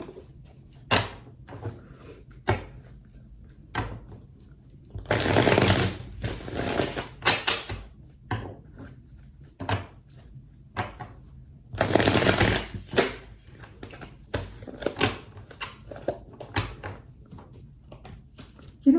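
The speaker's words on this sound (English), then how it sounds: "Okay, we need some tarot." Tarot cards are shuffled by hand in a quiet room, with short riffling bursts, soft taps and two longer, louder shuffles spread across the span.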